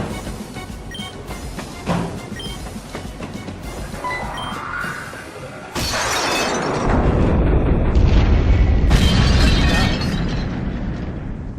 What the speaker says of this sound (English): Yo, the level of detail in the explosion.